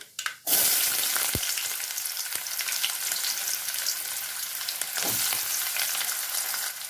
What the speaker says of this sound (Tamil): கொஞ்சம் ஆயில் சேர்த்துக்கலாம் கொஞ்சம் கடுகு பெரிய வெங்காயம் ஒரு வெங்காயம் கட் பண்ணி வச்சுருக்கேன் சேர்த்துக்கலாம்